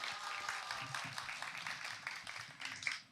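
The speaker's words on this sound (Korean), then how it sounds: "박수 보내주시기 바라겠습니다" An audience claps at a youth participation festival in Yeonggwang County, giving a steady, dense patter of hands that sounds faint and somewhat distant for about three seconds.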